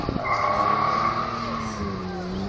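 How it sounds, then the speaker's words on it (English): A Jaguar D-type replica sports car passes by, its engine note sustained and moderately loud, then sliding down in pitch as it moves away. "who is driving this lovely D-type replica"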